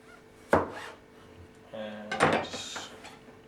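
Serrated knife sawing through breakfast food on a board, a few scraping strokes and knocks mixed with clatter from nearby utensils, close and moderately loud.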